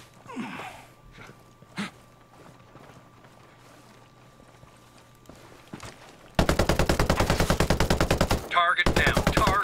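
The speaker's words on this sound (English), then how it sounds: "Hostiles are shooting." Rapid automatic machine gun fire in the video game Ghost Recon Breakpoint, a loud sustained burst after quieter footsteps and movement sounds, briefly pausing before resuming.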